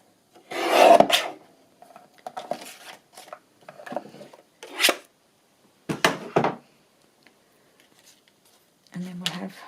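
Paper for ephemera crafting is cut and trimmed with scissors, heard as short separate rasping snips and rubs of differing strength. Quiet pauses and faint rustling fall between them.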